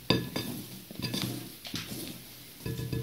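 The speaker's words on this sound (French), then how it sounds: "Vous allez mélanger délicatement comme ça." Whipped egg whites being gently folded into melted chocolate for homemade chocolate mousse in a bowl, with a spatula scraping and knocking against the bowl in slow, repeated strokes, close up and moderately loud.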